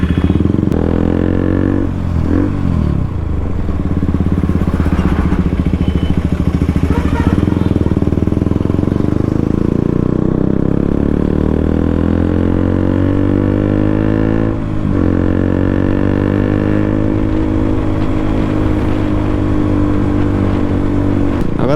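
KTM RC 200 motorcycle ridden on a road at night, its single-cylinder engine droning loud and close with repeated revving rises and gear-change dips throughout.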